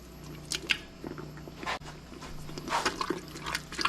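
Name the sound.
stirring crushed tomatoes and tomato soup for chili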